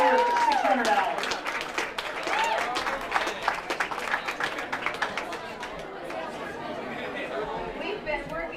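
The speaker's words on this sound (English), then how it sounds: "I'd like to have a big round of applause" A high school class reunion crowd claps for organizer Carol New, a dense round of applause mixed with chatter and voices, gradually thinning toward the end.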